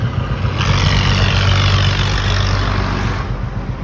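A Royal Enfield Bullet motorcycle, started by a remote-start kit, idles steadily with a loud, continuous low engine rumble close by, with no voices over it.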